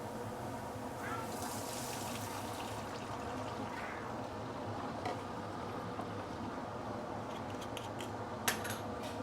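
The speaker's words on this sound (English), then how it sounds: "Now we can actually add in some filtered water." Filtered water pours steadily into a pan of browned pork leg for braising, a continuous rushing splash for several seconds with a few faint clinks near the end.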